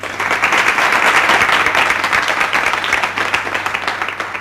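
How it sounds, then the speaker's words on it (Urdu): A crowd at a charity event for needy students gives a long round of applause, loud and dense at first and gradually thinning over about four and a half seconds, with no speech. "تالیاں."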